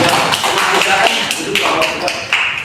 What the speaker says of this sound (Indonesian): kita beri aplaus dulu untuk kelompok 2